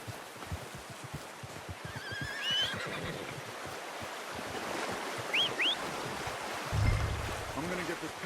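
A horse whinnies in Red Dead Redemption 2, with two short neighs over a constant wash of flowing water and outdoor ambience, plus faint hoof and game sounds and some background voices.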